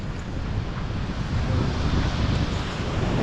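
Huge ocean waves roar at Lambert's Bay under strong wind buffeting the microphone, a loud, unbroken wash of surf and gusts with no voices.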